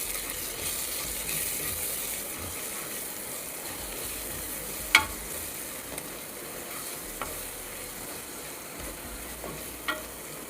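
Chilli powder, turmeric and garam masala fry in a pan while being stirred, a steady close sizzle with occasional sharp spoon taps against the pan, no voices.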